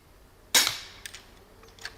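A single sharp crossbow shot at a target from about twenty meters, a loud snapping release with a brief decaying twang, followed by a couple of faint knocks.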